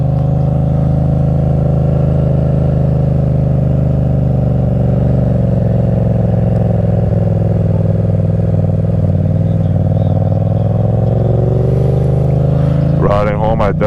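A motorcycle cruises home on the road with a loud, steady engine drone and rushing wind noise throughout, and near the end the engine note rises briefly.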